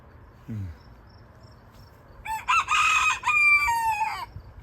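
A small rooster crows loudly and close by in a long, shrill, wavering call, preceded by a brief low cluck; faint insects chirr in the background.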